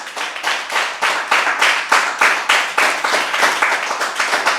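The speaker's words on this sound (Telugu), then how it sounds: "నరేంద్ర మోదీ గారికి ఒకసారి గట్టి క్లాప్ చేద్దాం" A gathered audience at a meditation yoga session clapping loudly together, a fast, even, rhythmic beat of strong hand claps repeating steadily and close, with no talk over it.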